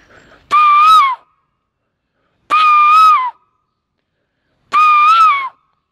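A voice imitates a koel's call, three separate rising, whistle-like hoots spaced a couple of seconds apart, loud and close, with silence between them.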